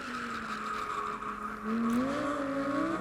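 A Lamborghini drifting gymkhana-style revs its engine with rising and falling tones, then surges louder as it accelerates away, under a faint hiss of tire noise.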